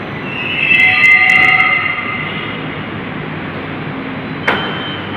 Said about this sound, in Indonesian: The train heading to Duku Atas is going to enter platform number 2.